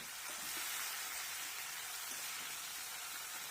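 Flat beans (sheem) frying in oil in a pan, a Bengali poppy-seed dish: a steady, dense sizzle and crackle filling the whole stretch, close and even, with no talk.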